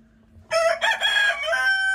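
A rooster crows loudly and close in a backyard coop with new hens, a single sustained cock-a-doodle-doo rising out of near silence and holding to the end.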